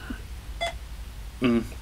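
Electronic beeps from a Predator-themed timer app on a phone: a short high tonal blip, then a louder harmonic beep burst near the end, over a low steady background hum.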